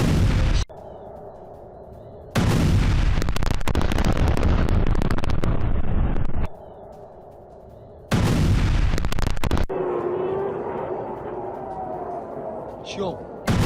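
Several heavy, booming missile explosions erupt in bursts in a residential area of Petah Tikva, Israel, separated by quieter stretches of rumbling background noise and distant echoes.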